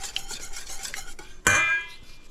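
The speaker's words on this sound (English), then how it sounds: "Mix that in." Evaporated milk being mixed into a flan mixture, with soft utensil scraping against a bowl, then a single sharp clink of metal on the dish near the middle that rings out briefly. No talking.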